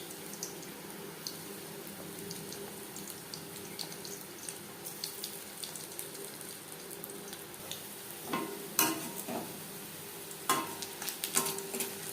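Curry pakoras frying in hot oil make a quiet, continuous crackling sizzle, with scattered pops and a few louder bursts toward the end.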